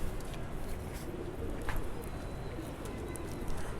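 Jumbo-sized Rampuri pigeons coo softly in a loft, faint low calls under steady background noise with some voices nearby.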